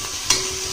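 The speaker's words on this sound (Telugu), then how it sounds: "టొమాటో ఫ్రై అవుతుంది." Tomatoes frying in a pan for a mutton curry: a brief, close, steady sizzle with one quick scrape of a stir partway through.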